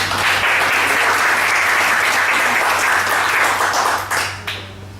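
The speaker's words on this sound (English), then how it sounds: "let's give her a round of applause again to Khun" An audience at a business talk gives a speaker a round of applause, loud and full, a dense continuous wash of clapping with a low steady hum beneath that thins out and tapers off in the final second.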